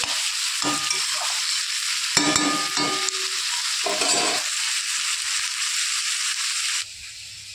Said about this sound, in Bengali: পেঁয়াজের সাথে আলুটা একটু লাল লাল করে ভেজে দেবো।